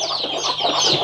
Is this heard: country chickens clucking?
yes